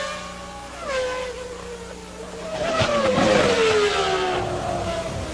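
Formula 1 race cars at the 1995 Japanese Grand Prix, a Ferrari overtaking, with a high engine whine that falls in pitch as it passes, then a louder, denser surge of several engines roaring by.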